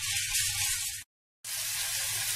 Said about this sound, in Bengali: আদা গুঁড়ো দিলাম, দিয়ে মশলাটা কষাচ্ছি।